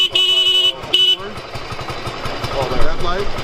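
A 1970 Honda Trail 90 CT90 motorcycle engine runs in gear at close range, a steady putter with rapid firing pulses that rise slightly toward the end, with someone talking over it and a brief horn-like tone early on.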